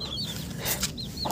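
A rooster makes a few short, close clucking calls in quick succession, fairly clear against a low background hiss.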